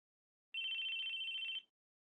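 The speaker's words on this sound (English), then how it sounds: "Our conversation was cut off by the sudden sound of a phone." Phone ringing in the Chaos;Child visual novel game, a single clean electronic ring tone sounding for about a second in silence.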